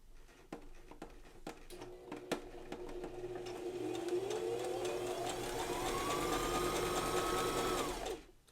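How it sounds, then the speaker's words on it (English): A Brother ST531HD sewing machine stitches fabric along a seam, its motor whirring steadily and rising in pitch as it speeds up over several seconds, then stopping abruptly; close and fairly loud, with light clicks before it starts. "drop your needle, drop your presser foot, Press your foot pedal and off we go"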